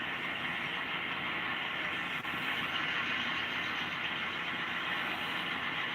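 A model train runs on a switching layout, a steady broadband rolling hum with wheel and motor noise that continues evenly throughout, moderately close and with no talk over it.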